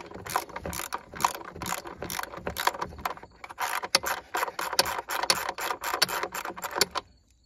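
A 10 mm ratchet clicks rapidly in steady bursts while a small nut is backed off on a 2016 Ford F-150 with the 2.7 engine, close and fairly quiet, with no voices.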